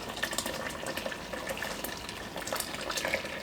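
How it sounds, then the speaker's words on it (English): Plum juice running through two layers of cheesecloth, a steady close trickle and gush of liquid pouring into a container, continuous for a few seconds without speech. "juice through 2 layers of cheesecloth to get the pulp out"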